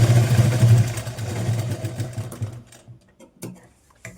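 A sewing machine runs steadily while stitching the shoulder seam of a katori blouse, a close mechanical hum that tapers off after a few seconds into a few quiet clicks and handling sounds.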